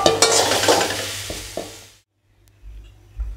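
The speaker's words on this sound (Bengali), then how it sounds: "এবার আমি সয়াবিনগুলো উঠিয়ে নেব।" Fried soybean chunks scooped and stirred out of a hot pan of oil, a busy close sizzle with scraping clatter for about two seconds, then near silence with a few faint low bumps.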